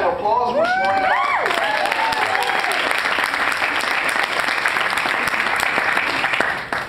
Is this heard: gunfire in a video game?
no